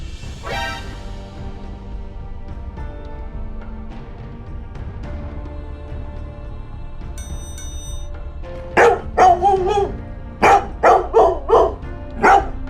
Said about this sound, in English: Thanks to the dog's barking, the gardener was able to save his life.